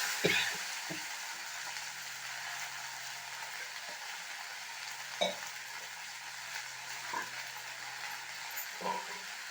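Steady sizzling of okra frying in a pan, with occasional scraping and stirring clicks, close and fairly quiet with no talking.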